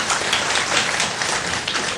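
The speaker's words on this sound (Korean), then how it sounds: "박수 쳐주시죠." Audience applause at a public talk, a dense close burst of many hands clapping at steady loudness throughout the short stretch.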